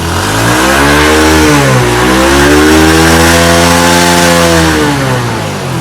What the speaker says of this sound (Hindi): तो बिस्मिल्लाह बढ़ते हैं अपनी गाड़ी को